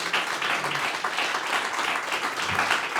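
Church congregation applauding together after a sermon, a steady wash of hand claps filling the room at moderate volume with no talking over it.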